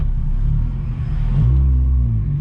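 Close, steady engine rumble from a Honda Jazz GK with a manual gearbox and a naturally aspirated 153 hp engine with raised compression, swelling louder as it pulls away, with no talking.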